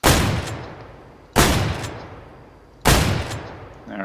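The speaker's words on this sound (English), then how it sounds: "Nice looking pump action 20 gauge." Three loud, sharp blasts from a pump-action 20 gauge shotgun in a video game firing range, evenly spaced about a second and a half apart, each with a long decaying tail.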